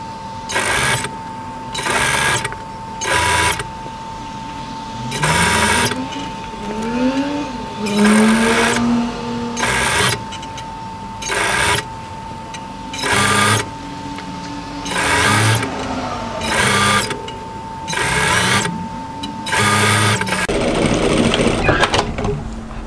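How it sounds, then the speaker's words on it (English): A domestic sewing machine stitches a garment hem through an overlocked edge, running in about ten loud, steady bursts separated by short pauses, each burst a fast mechanical whir with a sustained tone. "I'm stitching directly through the overlocking line"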